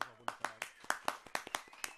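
A television host claps hands on a K-pop news show, about a dozen sharp, close claps in a quick, slightly uneven rhythm, with a brief voice at the start.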